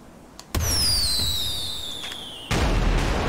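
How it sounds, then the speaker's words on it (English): Gunfire aimed at the sky in GTA 5 roleplay, two loud sharp shots about two seconds apart, each followed by a descending whistling ring and echo. "I'm shooting straight up into the sky"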